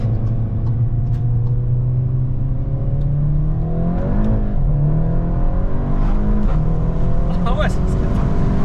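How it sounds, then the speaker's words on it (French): A car with two men inside driving along, a steady engine drone with gear changes and rising revs, heard from inside the cabin; speech is faint or absent. "Vraiment 2 hommes dans une voiture qui avance."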